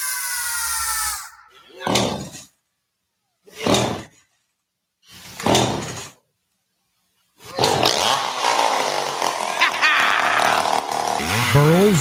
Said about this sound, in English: Burl's Chainsaw Shop.